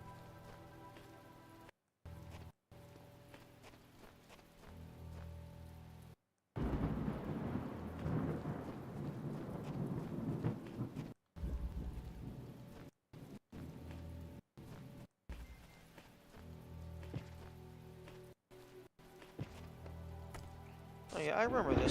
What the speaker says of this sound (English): yeah, there's more rain